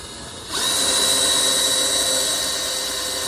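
A strong power drill spins up and drives steadily into a shade sail fitting, a sustained high whine holding at full level after a short quiet start.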